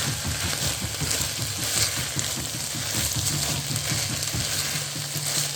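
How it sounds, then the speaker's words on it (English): Zucchini and other vegetables cook in a pot for a quinoa dish, giving a dense, even sizzling hiss with soft, rapid stirring rustles underneath, close and steady throughout without speech. "I like to keep on stirring my vegetable when I'm cooking"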